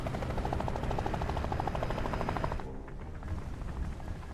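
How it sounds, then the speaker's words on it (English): Helicopter arriving in the video game Phantom Doctrine, a loud, steady rotor chop with dense layered noise that drops off abruptly partway through, then continues more quietly. "And here's our helicopter."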